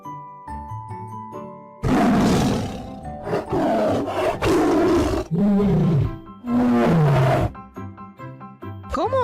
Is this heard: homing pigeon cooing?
no